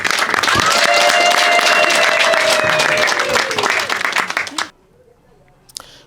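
A large crowd at a community gathering in Kabare, Rwanda, honoring diaspora donors, ululates in high, sustained trills over loud, dense applause. The noise cuts off abruptly, leaving near silence.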